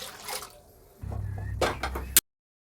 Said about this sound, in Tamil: நான் 4 கிளாஸ் தண்ணி ஊற்றுறேன்